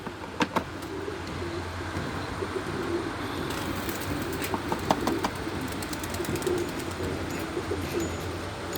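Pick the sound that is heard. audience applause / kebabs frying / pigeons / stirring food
pigeons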